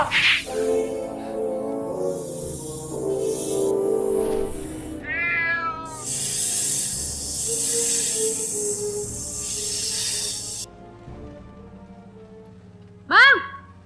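A cat meows several times, a long drawn-out meow and shorter ones including a sharp final cry, close and clear over background music.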